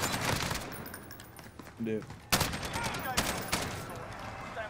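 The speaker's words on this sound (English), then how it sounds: "I'm gonna put this pistol to work" Pistol gunfire in a video game, rapid bursts of shots crackling through a dense, noisy mix of game sound, with a voice briefly speaking over it.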